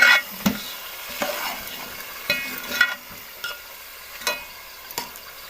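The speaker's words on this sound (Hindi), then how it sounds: "चिकन को हमने तकरीबन 5 से 6 मिनट के लिए इसी तरह भूनना है।" Half a kilo of chicken sizzles in a pan with roasted spices, a steady frying hiss broken by a spoon scraping and stirring every second or so, close and clear with no talking.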